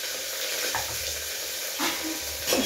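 Onion, capsicum, carrot and green chili frying together in a pan for vegetable biryani, a close steady sizzle with a few stirring knocks, no talking.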